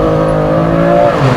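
A BMW M2 Competition with about 500 hp drives on the road, its engine loud and close in a steady, strong drone that shifts pitch toward the end.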